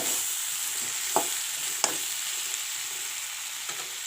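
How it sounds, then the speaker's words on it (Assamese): Eggplant fries in a pan with turmeric and salt, a soft even hiss of oil at moderate distance, punctuated by a few sharp taps of a spatula against the pan. "এতিয়া বনাইছোঁ বেঙেনা ভাজি"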